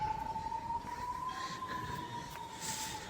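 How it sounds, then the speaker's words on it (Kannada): A siren wails in a steady, unbroken tone across a neighbourhood as heard from a rooftop terrace, sounding moderately distant over a low background rumble, with no voices. "ಫುಲ್ಲು ಸೈರನ್ ಎಲ್ಲ ಬಡ್ಕೋತಾ ಇದೆ ಆ ಕಡೆ ಈ ಕಡೆ ಎಲ್ಲ"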